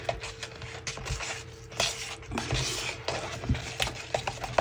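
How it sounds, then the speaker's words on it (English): A spatula scrapes and clinks around a container while mixing soap dish material, giving quiet, irregular taps and scraping strokes at close range. "this spatula, scrape it all around."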